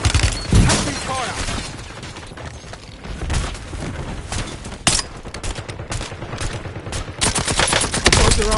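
Heavy gunfire in the Warzone game, with dense automatic bursts and sharp single shots close by, continuing almost without pause as voices speak over the shooting.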